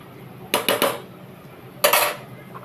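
Fried pointed gourd is tipped into a boiling curry in a pot, heard as a few quick metallic clinks and clattering knocks in two bursts over quiet background, with no speech.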